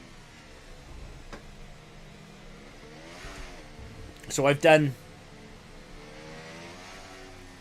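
Race car engine in the F1 24 video game at Bahrain behind a safety car, with a sharp, loud revving burst midway over a low steady engine drone while a person talks.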